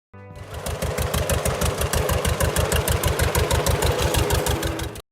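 A 1923 John Deere Model D tractor with a 6.6-litre two-cylinder engine starts and runs at a steady, loud, even putt-putt beat, each low firing pulse clearly separate.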